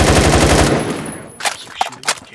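Automatic gunfire in the online shooter Phantom Forces: a loud, fast burst that trails off, followed by three separate sharper shots.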